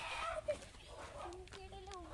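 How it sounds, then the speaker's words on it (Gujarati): A desi rooster, rescued after falling into a well, gives a drawn-out call that rises midway and carries on, with faint background noise and a brief voice-like sound early on. "કુકડાની આવાજ જબરદસ્ત તમે સાંભળી શકો છો"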